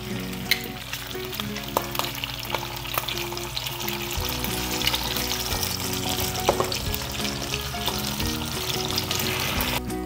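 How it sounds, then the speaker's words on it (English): Bacon frying in a pan on a stovetop gives a loud, continuous sizzle dotted with sharp crackles and pops, heard close and alone without any talking over it. "I'm adding another couple of pieces of bacon to the pan on the stovetop."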